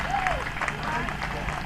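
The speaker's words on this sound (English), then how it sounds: "Please can we clap for her?" Audience clapping at a community day event, steady, moderately loud applause with speech-like voices mixed in over the short stretch.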